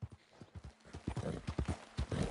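Horse hooves clip-clop in Red Dead Redemption 2, a close, uneven run of hoof strikes that quickens and grows louder partway through.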